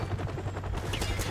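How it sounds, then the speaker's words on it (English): Helicopter in Modern Warfare Remastered, a steady low rotor thrum under a dense bed of gunfire and battle noise, loud and continuous for a brief moment. "Oh, the helo."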